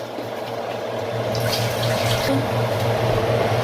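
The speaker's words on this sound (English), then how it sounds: "Now I'm going to add some water." Water pours steadily into a pot of chicken for stock, a continuous splashing and running sound close by, with a faint low hum underneath and no talking.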